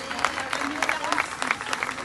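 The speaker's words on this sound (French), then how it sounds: "il faut l'applaudir bien fort" A crowd at a French political rally keeps up moderate applause, with individual claps standing out in an uneven patter. Cheering voices are mixed in throughout.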